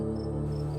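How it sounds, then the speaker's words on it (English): Crickets chirp steadily at night beside a shallow river in an ancient Roman setting, a continuous pulsing trill under a soft breeze, close and even throughout. "amongst the soothing chirping of nearby crickets"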